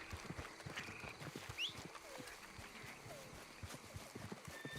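Horse hooves splash and clop through swamp water in Red Dead Redemption 2, a steady run of soft, close hoof falls with faint game ambience and brief high bird-like calls behind.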